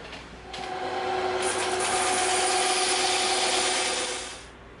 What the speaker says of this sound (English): now we're going to cut this off on the bandsaw